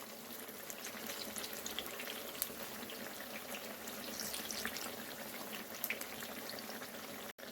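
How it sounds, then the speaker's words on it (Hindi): Golden eggplant slices fry in oil, giving an even, continuous hiss with scattered faint crackles that stays steady throughout, with no talking. "तो ठीक इसी तरह से हम दूसरे साइड को भी अच्छी तरह से फ्राई कर लेंगे बैगन के"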